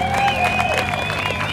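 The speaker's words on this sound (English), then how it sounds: "Then a round of applause, everyone." An audience at the 4th Annual Garden Island Boogie Board Classic bodyboarding contest gives a steady round of applause, a dense patter of clapping with cheering and some background music.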